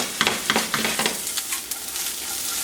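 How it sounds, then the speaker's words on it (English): Mushrooms sizzle in hot oil in a pan while being stirred, with a row of quick scraping clicks over a steady frying hiss, close and fairly loud. "Once the oil is nice and hot, I'm gonna go ahead and add my mushrooms. So I wanna give them a good mix."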